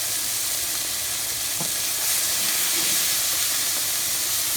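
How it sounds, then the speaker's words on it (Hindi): Ginger garlic paste sautéing in a pan for okra chicken, a steady close sizzle and hiss with a faint clink near the middle, no talking. "हमने 1 टेबलस्पून अदरक और लहसुन की पेस्ट ले, इसे थोड़ा सा सौते करें।"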